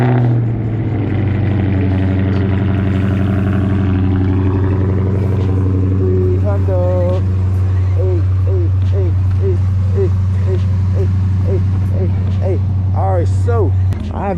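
A Chrysler 300 V8 engine turns over and settles into a deep, loud idle, then rises and falls in a series of short revs toward the end.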